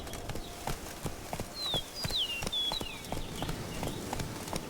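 Roach the horse from The Witcher 3 gallops with a steady, quick clip-clop of hooves throughout, moderately loud over faint ambient background, with a few high bird-like chirps in the middle and no talking.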